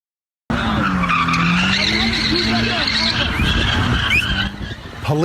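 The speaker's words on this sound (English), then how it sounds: "a driver is seen doing donuts in the middle of the road" A car doing donuts in the middle of a major Ontario highway during a stunt-driving stop, tires skidding and squealing in long continuous wails with a droning engine, loud and close throughout.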